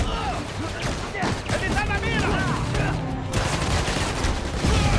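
Gunfire in the video game Spider-Man Miles Morales, bursts of shots crackling over game effects and music, with someone talking through it.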